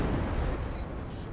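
Torpedo hits exploding against a Yamato battleship in World of Warships, heard as a dense, loud, rumbling roar of blasts that rolls on continuously without a break.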